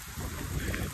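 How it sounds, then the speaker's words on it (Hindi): Heavy monsoon rain pouring down outdoors, a dense, continuous hiss of drops striking surfaces, loud and close, with no voices over it. "अलग ही लेवल में बारिश हो रही है भाई।"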